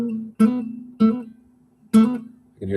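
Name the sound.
guitar hammer-on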